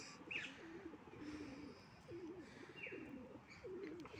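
Pigeons near a seaside jetty giving soft, repeated low coos in a slow rhythm, faint and somewhat distant over a steady outdoor hiss, with a few higher chirps between calls.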